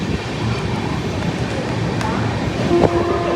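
A passenger train runs at speed on the line from Kolkata toward Burdwan, heard from inside the carriage as a steady loud rumble and rattle with wind noise and a brief squeal near the end.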